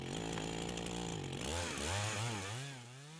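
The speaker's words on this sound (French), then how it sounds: "le tronc est ouvert à l'aide d'une petite tronçonneuse" A small chainsaw bites into a grapevine trunk in a vineyard, its close, loud engine whine dipping and wavering in pitch as it cuts through the wood.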